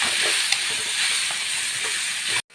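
Tapioca (kappa) being stirred with masala in a hot pan, a steady close sizzle with soft scraping of the spoon, running evenly for a couple of seconds before cutting off abruptly.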